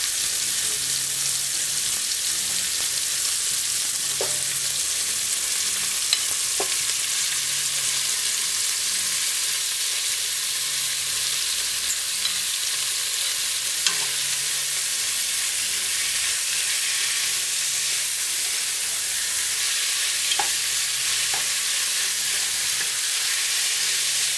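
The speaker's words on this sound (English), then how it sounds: "After 1 minute, add the strips of beef." Strips of beef fry in a pan for pepper steak, giving a steady, close hiss of sizzling with a few faint clinks and no talking.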